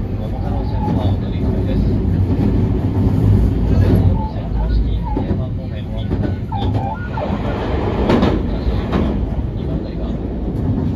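A train pulls into Okayama Station, its low continuous rumble of rail rolling noise steady and loud throughout, with bursts of mid-range rattling and a voice speaking over it.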